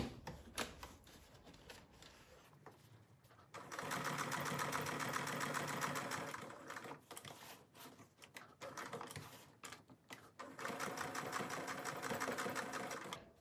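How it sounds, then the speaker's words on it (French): Domestic sewing machine stitching close to the edge of a fabric label, running in two long steady whirring bursts with a brief stop between them, close and fairly loud, with some handling clicks before the first run. "c'est très simple de coudre tout au bord de l'étiquette"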